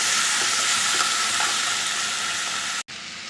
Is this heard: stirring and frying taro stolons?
yes